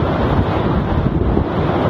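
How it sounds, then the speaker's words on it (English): Typhoon Fung-wong's ferocious winds and giant waves crash onto the shore in northeastern Luzon, Philippines: a loud, continuous roar of wind buffeting the microphone over churning surf, with no voices. "ferocious winds that sent giant waves crashing onto shore"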